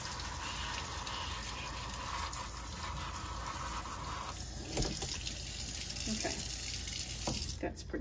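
Tap water runs steadily into a sink while embroidery is rinsed to clear sticky Fabri-Solvy stabilizer residue, a constant close splashing wash with a brief shift in the flow near the end.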